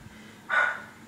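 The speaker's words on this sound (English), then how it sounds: "Sorry, there goes my dogs." A dog barks once, a short burst of moderate loudness heard indoors against quiet room tone.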